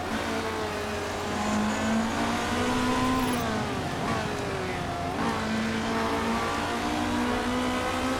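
Race cars lapping a track in Motorsport Manager, engines droning loudly and continuously, with the whine repeatedly climbing and dropping as the cars speed up and brake.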